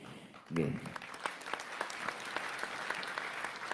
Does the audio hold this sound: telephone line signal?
no